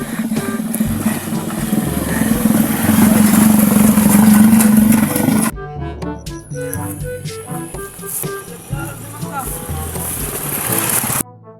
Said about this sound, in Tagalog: natingala mo nga daghay motor nga nagaagi